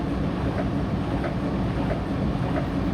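A Thomas and Friends toy train runs along its track at a toy exhibition, giving a steady, continuous rattling rumble with faint rhythmic clicks throughout.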